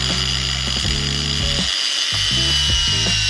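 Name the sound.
angle grinder cutting braided fuel hose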